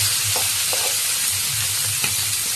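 Fish frying in oil in a pan, a steady loud hiss of sizzling close up with a few soft knocks of the pan, no talking.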